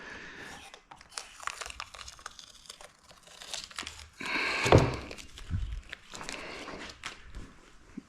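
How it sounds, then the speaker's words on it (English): Blue tape is peeled off during a crash repair, giving near crinkling and tearing rustles, a louder rip around the middle and scattered handling thumps, with no voices. "I'm gonna get all the blue tape removed"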